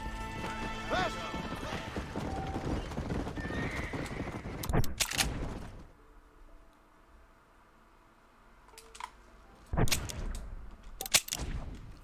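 A horse whinnies loudly in the Red Dead Redemption video game, its neigh standing out over hoofbeats and game noise, followed by sharp gunshot-like cracks and bursts later on.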